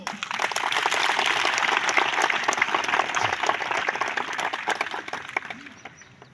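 A school ceremony audience bursts into dense, sustained applause that swells quickly and fades gradually over several seconds, with a few faint voices underneath.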